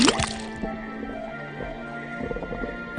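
A tapped faucet in the Detective Grimoire game lets liquid drip, opening with a bright splashy burst and followed by wet, echoing drips and gurgles over a faint tonal hum.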